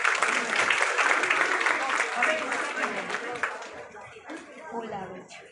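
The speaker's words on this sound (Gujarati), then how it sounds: "જોરદાર તાળીઓ." Audience applause fills the hall at a cooking competition organized by a cooking academy in Jamnagar, steady, dense clapping with crowd chatter mixed in, fading somewhat toward the end.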